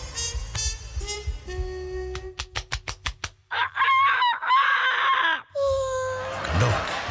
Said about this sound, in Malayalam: ഞാൻ പറഞ്ഞില്ലേ കോഴിയാണ്